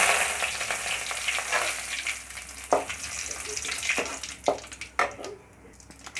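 Mustard seeds, cloves, cardamom and curry leaves fry in hot oil for semiya upma with a steady, close sizzle broken by sharp crackles and pops, some of them louder spits.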